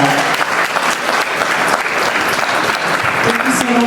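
A gala crowd at a Ghanaian professionals' banquet breaks into a loud, dense round of applause, steady and continuous throughout, with cheering voices mixed into the clapping.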